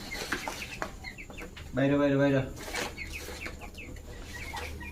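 A Brahma chicken chick gives a short burst of clucking calls mid-clip, close and fairly loud, while a person talks before and after it.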